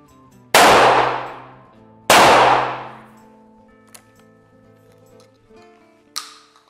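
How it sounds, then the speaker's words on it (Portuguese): Two loud shotgun blasts from a Boito A-400 firing T200 cartridges at a target about 8 metres away, each sharp report ringing out and decaying over roughly a second, followed by faint clicks of handling. "E vou fazer dois tiros com um cartucho T200."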